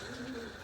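Doves in a home aviary that also houses zebra finches, giving a soft, low cooing call that swells and fades within a brief moment against a steady background hum.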